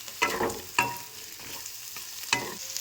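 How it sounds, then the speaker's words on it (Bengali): Fried fish head being stirred with onions in a pan, spatula scrapes recurring every half second to a second over a steady low sizzle, close and moderately loud with no talking. "মাছের মাথাটা দিয়ে পেঁয়াজের সাথে মিশিয়ে নেওয়া হয়ে গেছে।"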